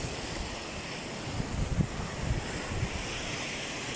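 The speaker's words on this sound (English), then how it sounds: "Waves keep on coming constantly." Ocean waves wash over rocks along the shore, a steady broad surf rush with soft swells building and breaking, mixed with wind noise on the microphone.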